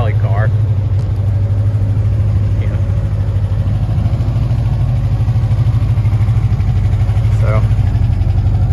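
A 1969 Renault Alpine A110 1600S vintage French rally car idles with a steady, even engine drone that holds constant throughout, while someone briefly speaks near the start.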